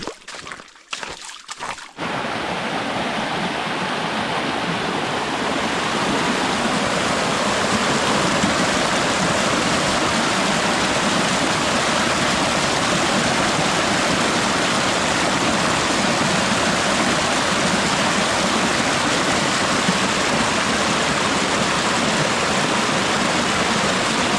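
Steady rushing of a forest stream flowing over rocks, continuous and fairly loud, with no voices after a brief opening.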